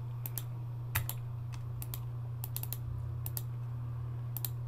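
Someone types on a computer keyboard, producing quiet, irregular key clicks in short bursts over a low steady hum.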